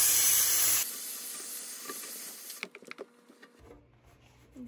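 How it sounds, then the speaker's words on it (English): A Bissell Power Steamer jets steam over grease on a Ninja Foodi grill, opening with a loud steady hiss that cuts off abruptly, followed by softer scattered sputters and clicks. "I'm going to try to use the steamer to clean this greasy area here in my foodie."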